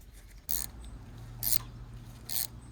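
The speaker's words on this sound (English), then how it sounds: "Then I clamp the chain in the chain splitter." A chain splitter clamps down on a 630 motorcycle chain in a workshop, giving three short, sharp metallic clicks about a second apart against a low hum.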